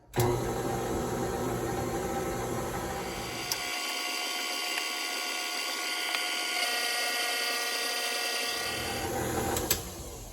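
An electric mixer runs at low speed, blending shortening for a from-scratch pumpkin pie, with a steady, fairly quiet motor whir that holds an even pitch throughout.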